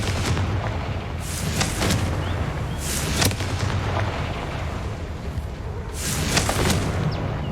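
Confringo fire spell explosions in the video game Hogwarts Legacy, a series of sharp booming blasts at irregular intervals over a steady rumbling background, loud and close.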